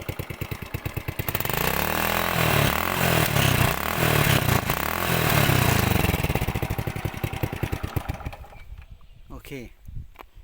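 Honda Wave 100 motorcycle, nearly twenty years old, with its engine running steadily and loudly for several seconds at a smooth, even idle, then easing off and fading toward the end.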